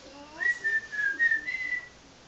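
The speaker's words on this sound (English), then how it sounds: "Can any of you whistle?" A person whistles a short tune of a few clear, sustained notes in a storytelling performance. The melody is heard alone and fairly close, then falls silent.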